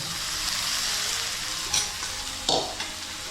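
Steady, close sizzling of chicken liver frying in a hot wok, with a couple of brief stirring scrapes; no voices.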